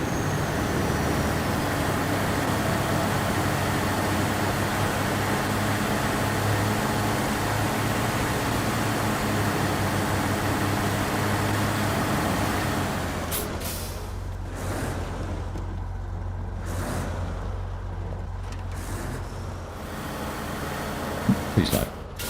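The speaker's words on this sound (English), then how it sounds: "It's a very noisy truck, isn't he?" A noisy truck engine drones loudly and steadily in SnowRunner, then drops off partway through, leaving quieter rumble with a few sharp hissing bursts near the end.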